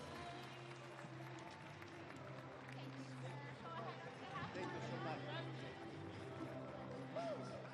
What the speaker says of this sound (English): Let's hear you cheer, Rochester, for